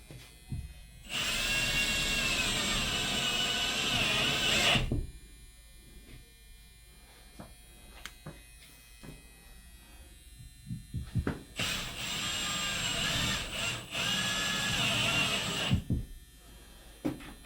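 Power drill drives self-drilling anchor screws into a wall for a mount, two sustained high buzzing bursts of several seconds each separated by quieter handling clatter, heard up close.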